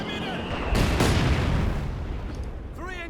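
Howitzer barrage in the Company of Heroes 2 strategy game: a heavy, rumbling boom swells at about the first second and rolls on as a dense, loud wash of battle noise that slowly fades.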